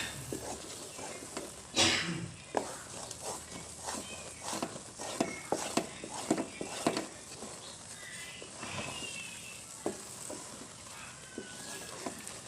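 Desi Punjabi halwa being stirred in a pot, irregular scraping and thudding strokes with soft sizzling in between, close and moderately loud with no talk.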